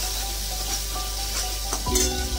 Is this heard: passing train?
no